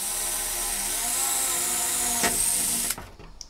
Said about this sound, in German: wir bohren jetzt quasi von innen nach außen mit einem kleinen Bohrer vor